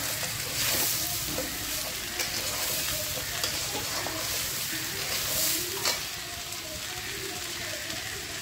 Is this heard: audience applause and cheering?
no